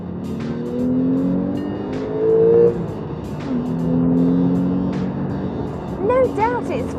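The turbocharged flat-six of a 2016 Porsche 911 drones loud inside the cabin while driving, rising and falling in pitch through repeated gear changes, with a voice talking over the engine.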